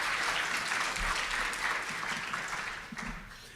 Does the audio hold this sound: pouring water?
no